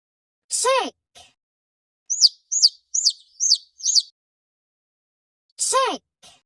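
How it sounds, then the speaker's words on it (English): A chick chirps in a quick series of five short, bright peeps, framed by brief spoken words at the start and end of an English animal-vocabulary lesson. "chick"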